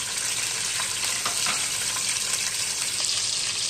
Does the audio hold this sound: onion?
yes